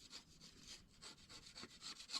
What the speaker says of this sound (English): I'll get the bulk of it off with a little scraper